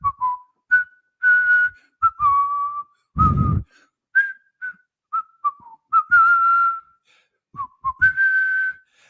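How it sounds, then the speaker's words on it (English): A person whistles a casual, meandering tune in short phrases with pauses between, close and clear, with a brief rustle midway. "Just walking down the street whistling."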